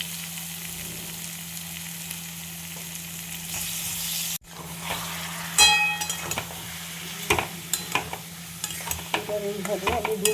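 Soybean chunks stir-fried with spices in a pan, a steady close sizzle broken by a brief drop, then rising again under repeated spatula scrapes and clinks against the pan.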